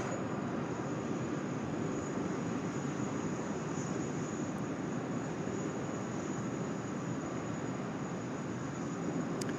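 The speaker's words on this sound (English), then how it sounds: "A long journey needs a long takeoff roll." A jet airliner on its takeoff roll at Sydney Airport gives a steady, broad roar that holds at an even level for the whole stretch, heard from a distance without any voices.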